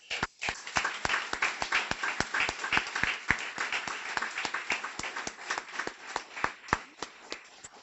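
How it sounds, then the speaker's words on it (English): Applause breaks out for the puppy raisers at a guide dog school graduation: a moderate room of clapping with sharp, distinct individual claps that keep up a steady rhythm throughout, with no voices over it. "So I'm going to make all the raisers in the room stand up again so that we can give you another round of applause"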